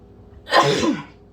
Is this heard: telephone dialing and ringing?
no